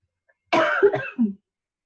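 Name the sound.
throat clearing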